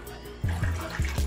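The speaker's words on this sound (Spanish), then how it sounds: "echamos agüita al vasito hasta rebosarlo" Water is poured into a small glass until it overflows, heard as a close, gurgling pour in short pulses over about a second.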